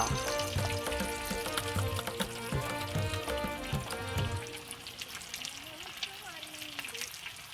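Eggs sizzle and fry in a pan for bhurji, with steady crackling under clinking, stirring and scraping sounds that fade into a quieter hiss toward the end.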